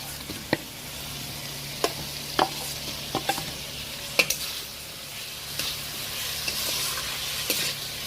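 Fried potatoes tossed into spiced masala in a pan for a Bengali hilsa cumin curry make a steady sizzle, punctuated by several sharp knocks and scrapes of a spatula, close by, with nobody speaking.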